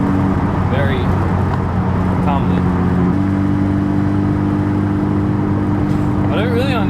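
Mitsubishi Evo 9 driving on a mountain road, a loud steady engine drone with a gear change partway through, heard from inside the car, with brief chirps over the engine.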